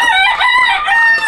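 A single loud rooster crow rings out close by, a long drawn-out cock-a-doodle-doo with no other sounds.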